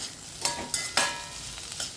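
Light sizzling of spices being tempered in a pan with a few soft scraping stirs and clinks, quiet and close, no voices.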